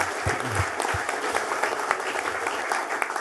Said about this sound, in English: give a round of applause to Christian.